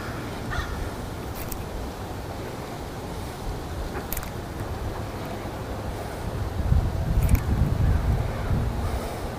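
Wind blowing across open water during fly fishing, a continuous rumbling buffet on the microphone that strengthens toward the end, with a few faint bird calls above it.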